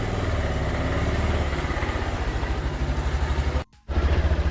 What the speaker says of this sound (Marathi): ह्याच्या बाईकवर आपण फिरायला जाऊया